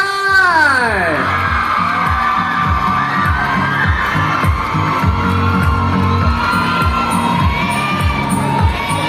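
A packed audience at a live fan event in Macao cheers, screams and whoops loudly, with rhythmic group clapping and shouting sustained throughout.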